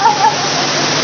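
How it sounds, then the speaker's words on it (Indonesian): Heavy rain pours down steadily outdoors during a religious talk, a loud dense hiss with no pauses, and a faint tonal sound briefly rises above it. "Ini mumpung hujan nih."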